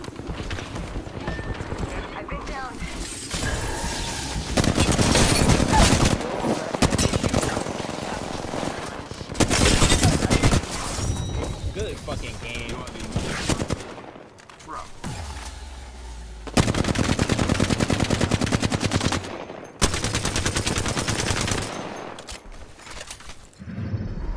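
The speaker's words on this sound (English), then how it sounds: "I'm taking fire." Gunfire in the Apex Legends video game, repeated loud bursts of automatic weapon fire separated by short quieter gaps, with a player talking over the action.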